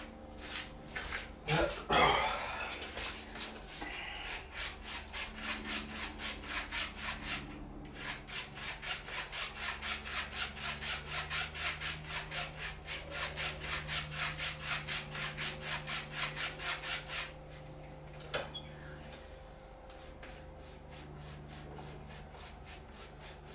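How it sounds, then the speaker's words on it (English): Rapid, steady rhythmic scraping of a straight razor stroked back and forth on a leather strop, continuous and close, with a few brief knocks near the start and end. "I'm just going to go and strop it quick"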